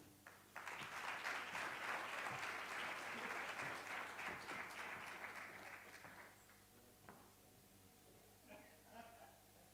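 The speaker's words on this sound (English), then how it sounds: "A round of applause, ladies and gentlemen" An audience at a G20 youth roundtable event applauds a government minister, a full burst of clapping that lasts about six seconds before fading to a few scattered sounds.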